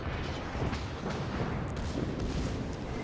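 Naval guns of the battleship Tirpitz firing in World of Warships, heard as a dense, continuous low rumble of booming gunfire without distinct separate shots.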